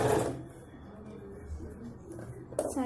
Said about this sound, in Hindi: फिर पलट के हम लोग एक सिलाई मारेंगे इसके ऊपर